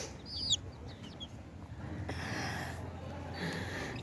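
Chickens and young chicks on a village poultry setup cluck and make short bursty calls, some brief chirps near the start and louder clucks later over steady background noise, with no speech.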